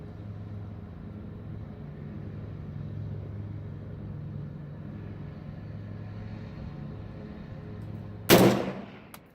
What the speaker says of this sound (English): we'll shoot those last 5 rounds